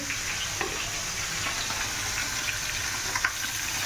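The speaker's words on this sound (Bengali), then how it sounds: "মাছটা ভেজে নিচ্ছি" Fish frying with potato in a pan sizzles continuously at close range. Faint stirring scrapes and clicks come through now and then, and no one speaks.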